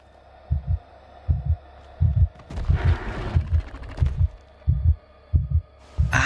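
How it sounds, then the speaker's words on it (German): A loud heartbeat of the player character in the video game A Quiet Place: The Road Ahead thumps in heavy paired beats at a steady, slightly quickening pace, with a faint hum and brief noise bursts between the throbs. "ich glaube, mein Herzschlag war zu laut"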